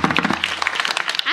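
Audience applause breaks out at a devotional kirtan during a week-long Harinam Saptah gathering: a dense, steady wash of many hands clapping close by, filling the whole moment without a break.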